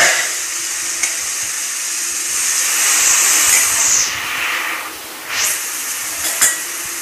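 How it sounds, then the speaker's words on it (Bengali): Water from boiled kabuli chickpeas poured into a hot pan of spiced masala for ghugni, giving a loud, steady sizzling hiss that swells for several seconds and then settles into softer bubbling with a few stirring clinks. "কাবলি ছোলা সেদ্ধ জলে আমি ওর মধ্যে দিয়ে দিচ্ছি।"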